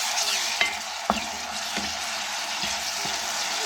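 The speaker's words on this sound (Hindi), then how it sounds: "2 से 3 मिनट और भूनेंगे कि हमारे प्याज भी फुल गोल्डन बन हो जाएंगे" Chopped onions with ginger garlic paste frying and being stirred in a pan, with a steady close sizzle and a few sharp scrapes and knocks of the spoon spaced through it, no talking.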